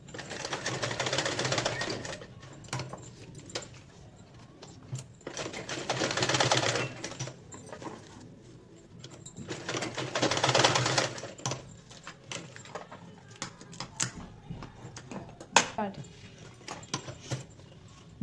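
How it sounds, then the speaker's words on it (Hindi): Sewing machine stitching over overlapped elastic for garments, rapid mechanical clatter in three bursts separated by quieter pauses, close and moderately loud. "फिर इस लास्टिक को एक दूसरे के ऊपर रख के 2 से 3 सिलाई लगाइए"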